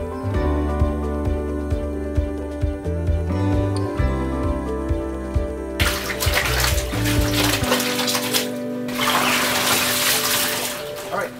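Clothes soak and are scrubbed in water at home, with rhythmic sloshing and rubbing strokes followed by louder splashing and pouring, close and continuous.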